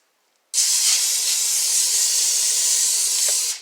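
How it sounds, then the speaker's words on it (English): Butter cooking spray misted onto a baking pan: one continuous bright hiss lasting about three seconds, close and loud, starting abruptly after a moment of quiet and cutting off at the end. "I'm going to lightly spray the pan."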